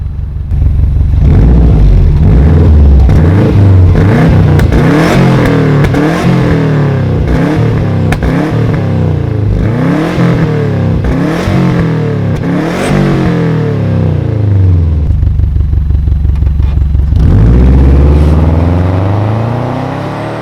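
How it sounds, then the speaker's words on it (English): A 2003 Subaru Forester fitted with a JapSpeed exhaust, its exhaust leak repaired, is revved hard and close. A run of repeated throttle blips rises and falls before a longer rev near the end, loud with no talking. "now that we fixed that exhaust leak, what we're going to do now and see what she sounds like"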